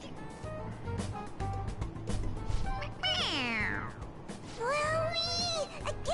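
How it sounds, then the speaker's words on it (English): A stuffed toy cat in the Persona 5 Royal video game lets out two clear, drawn-out meows when its head is pressed, over soft game background sound. "It meows when you press on its head."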